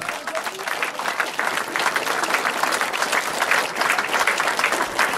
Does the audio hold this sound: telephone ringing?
no